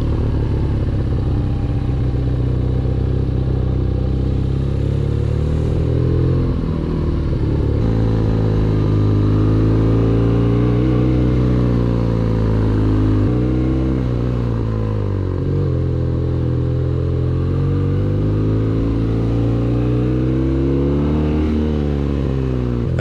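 A motorcycle engine rumbles loudly and continuously, its pitch rising and falling as the rider accelerates and eases off.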